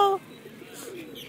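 Pigeons coo and chirp softly while being chased, with a brief tonal call at the very start and then a faint, steady murmur of bird sounds.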